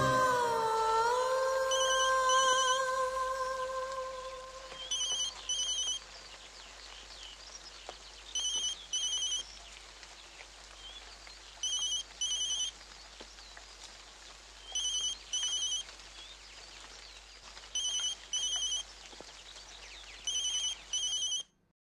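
A phone rings in repeated paired bursts of electronic trills, spaced evenly with quiet gaps, after a fading tone at the start.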